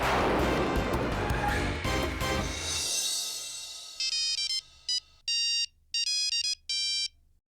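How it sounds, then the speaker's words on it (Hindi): A phone ringtone chirps in several short electronic bursts, loud and close, following a brief crash of louder noise at the start. "अभी फोन लगाता हूँ।"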